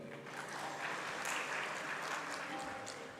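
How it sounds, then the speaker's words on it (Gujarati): Audience applause fills the clip, a steady dense patter of many hands clapping at an even level for about three seconds, with no talk over it. "ભાર્ગવભાઈને વધાવો તાળીઓ છે"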